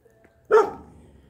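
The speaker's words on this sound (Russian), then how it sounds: "Тут есть собака Плюша" A single sharp dog bark rings out close by in a quiet yard, then decays quickly into silence.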